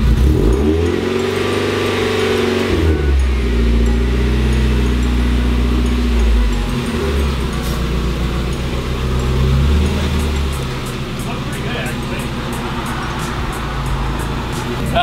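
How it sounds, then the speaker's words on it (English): A turbocharged car engine run on a MegaSquirt ECU idles roughly and revs up and down, loud and close throughout. "Hey, it does idle."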